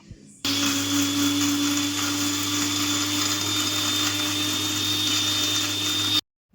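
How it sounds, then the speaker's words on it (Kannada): Mixer grinder blending soaked chillies, cashews and almonds with water into a paste, a loud continuous high whine and motor drone running steadily for about six seconds before stopping. "ಈಗ ಇದನ್ನು ನೀರು ಹಾಕಿ ಪೇಸ್ಟ್ ಮಾಡ್ಕೊಂಬರೋಣ"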